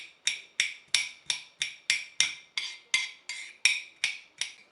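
A large knife chops through fennel on a board in about twelve sharp, evenly spaced strokes, each a close, crisp thud with a short ringing tail, with no talking.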